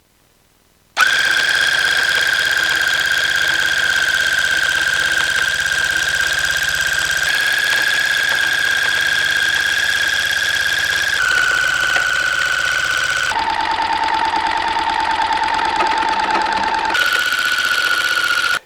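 A tufting gun punches yarn into monk's cloth with a loud, steady mechanical whine and rapid buzzing rattle, running continuously with brief shifts in pitch as pressure changes, close to the listener and without talk.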